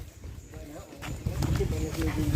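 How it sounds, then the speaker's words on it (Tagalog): A horse walks along a path beside newly planted banana plants, its hooves clip-clopping in a steady close rhythm while a person talks over it. "Tingnan niyo yung kabayo guys, so, maghanap talaga siya ng daanan na hindi siya mahirapan."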